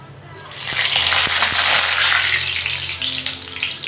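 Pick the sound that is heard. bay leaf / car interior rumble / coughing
bay leaf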